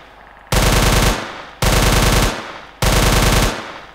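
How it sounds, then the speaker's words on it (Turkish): Three bursts of rapid automatic P90 gunfire from a Minecraft gun mod with Counter-Strike weapons, unscoped, each loud, dense volley lasting about a second with short pauses between. "Bir de skopsuz P90'a bakalım."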